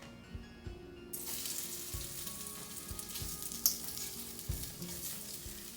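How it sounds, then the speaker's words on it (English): Potatoes browning in ghee and coconut oil in a pot, giving a steady, bright frying sizzle that swells suddenly and holds, with faint stirring knocks underneath. "I will add a dash more ghee and coconut oil, and I will brown the potatoes now"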